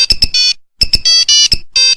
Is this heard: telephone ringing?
yes